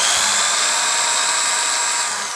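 A power drill runs on a 1000 W pure sine wave inverter, giving off a steady high-pitched whine that holds level and close for the whole stretch, then eases off slightly at the end, with no voices over it.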